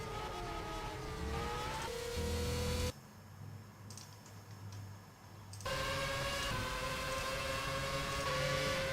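Formula 1 race cars in the rFactor video game at the Malaysian Grand Prix, engines droning loud and steady with shifting pitch, dropping to a quieter muffled stretch midway before the roar returns.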